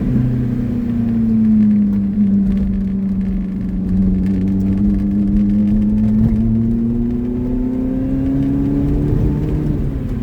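A Lotus Elise drives a mountain road, its engine droning steadily from inside the car with gentle rises and falls in pitch through the corners.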